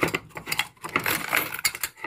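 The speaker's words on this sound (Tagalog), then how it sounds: "kukunin ko muna yung aking susi" A set of keys jangles and clinks in repeated irregular bursts for a couple of seconds, close and fairly loud, with no talk over it.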